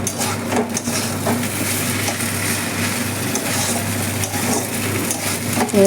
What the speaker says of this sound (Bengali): চাউমিন সেদ্ধ করে রাখা আছে এই যে ভেজে নিচ্ছি